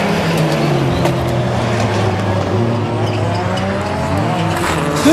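A DS3 rallycross car races out of the joker lap at Lessay, its engine roaring loud and close in a continuous high-revving drone with shifting pitch, and no talk.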